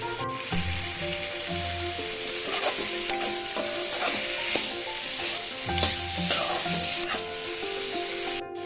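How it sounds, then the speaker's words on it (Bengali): Spices with cumin and coriander powder sizzle in a pan for a vegetarian fig (dumur) dish while a spoon stirs them, giving a constant close hiss broken by frequent scraping clatters against the pan. "এবার সব মশলাকে আমি ভালো করে কিছুক্ষণ সময় কষিয়ে নেব।"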